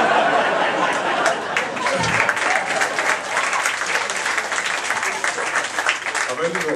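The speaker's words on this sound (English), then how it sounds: "can you stop clapping?" A comedy club audience at a stand-up show claps in a dense, continuous wave, loud and close, with a few chuckles and murmurs mixed in and a brief dip in the middle before the clapping carries on.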